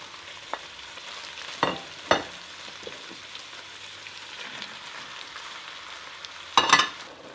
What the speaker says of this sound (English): Next I'm going to add both the beef mince and the pork mince.